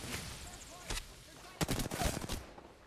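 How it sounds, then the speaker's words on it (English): Video game gunfire from enemies behind the team, a burst of rapid sharp shots in quick clusters, fairly faint and distant with some background noise. "Somebody's back there shooting at us."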